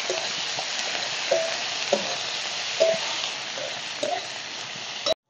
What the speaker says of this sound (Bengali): এখন এর মধ্যে দিয়ে দেবো কুচি করে রাখা পেঁয়াজ আর লচেরা কাঁচা লঙ্কা। দিয়ে এগুলো ভালো করে ভেজে নেব।